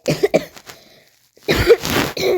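Someone walking along a paddy field coughs and clears their throat close to the microphone, a few rough bursts separated by a short silence, with no talking.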